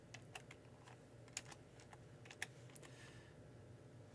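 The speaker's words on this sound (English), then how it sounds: "Let's see if a keyboard will work here." Sparse computer keyboard typing, a handful of light clicks with two sharper keystrokes, faint over a steady low hum and with no voices.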